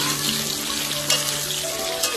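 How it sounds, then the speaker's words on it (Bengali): Desi chicken sizzling and frying in a pan, a dense steady crackle with occasional stirring scrapes, close and continuous. "শুটিং লোকেশনে এসে ফার্স্ট টাইম চিকেন রান্না করছি"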